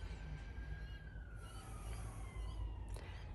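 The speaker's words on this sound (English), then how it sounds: "Sirens are going off right now." A distant siren wails with a slowly falling pitch, faint beneath low background rumble.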